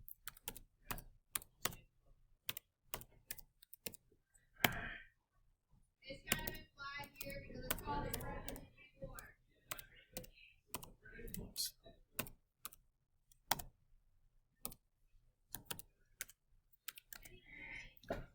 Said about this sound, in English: So I'm just going to kind of keep typing these in.